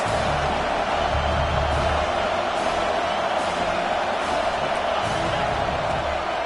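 A football stadium crowd roars for the defense on a big third down at Eastern Michigan versus Michigan State, a dense, steady wall of cheering and noise that holds at one level throughout.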